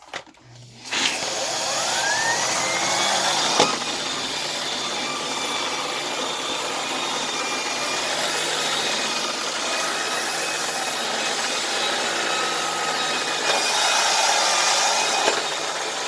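A turbine power head on a vacuum cleaner runs on a rug with a steady, loud whirring drone and a faint rising whine, and a couple of knocks are heard as it is moved.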